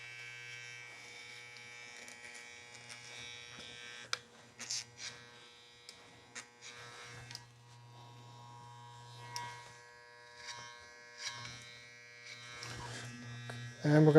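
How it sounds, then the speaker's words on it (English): Electric hair clippers buzz steadily during a boy's clipper-over-comb haircut, a close, constant electric hum that cuts in and out as the clipper moves, with a person speaking over it throughout. "we're going to take the clipper at a 45-degree angle, just like on the other side"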